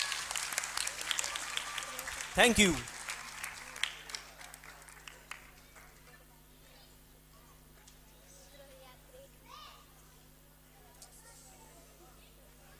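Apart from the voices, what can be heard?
audience applause for winning team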